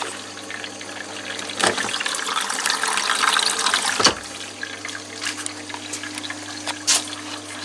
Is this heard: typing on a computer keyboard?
no